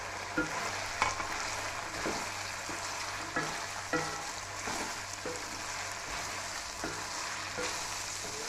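Carrots, peas and capsicum fry in a pan with a steady loud sizzle. Regular stirring scrapes and taps of a spoon come every second or so, close up and with no talking.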